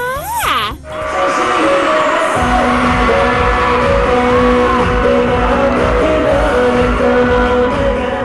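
Women in an audience shriek and scream excitedly at a special stage show by a male Korean star, a loud sustained wall of high cheering after a brief musical opening, with voices and shouts layered throughout.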